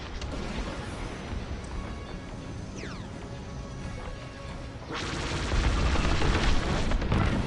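Ship cannon fire in the game Star Wars Squadrons, aimed at enemy shuttles, heard as a dense, continuous roar of blasts and impacts that swells louder toward the end, with no talking.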